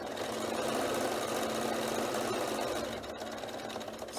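A sewing machine top stitching a fabric cover onto a notebook with a long stitch length, a steady, close mechanical whirring hum that runs continuously and eases slightly near the end.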